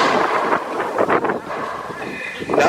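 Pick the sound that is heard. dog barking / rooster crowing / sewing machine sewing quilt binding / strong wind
strong wind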